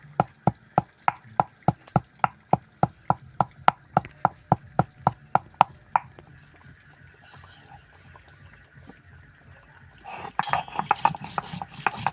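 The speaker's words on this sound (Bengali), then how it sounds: "গরম মশলা আর গোলমরিচ একসঙ্গে বেটে নেবো" Garam masala and black pepper are ground together on a stone. About twenty steady, evenly spaced knocking strokes ring out close by, then give way to softer scraping and finally louder, rougher rubbing.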